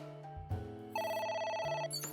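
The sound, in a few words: telephone ringing in the video game AI: The Somnium Files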